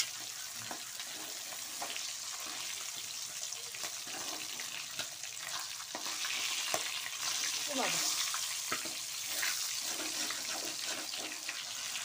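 Fish frying red-brown in plenty of hot oil for a Bengali New Year morning meal, a continuous soft sizzle and crackle with occasional stirring and scraping, fairly quiet and close.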